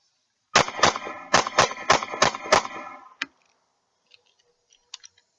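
A Ruger LC9s Pro pistol fires Federal Champion aluminum-case ammo in seven sharp, loud shots in quick succession. A brief metallic clack follows, then near silence with a few faint clicks.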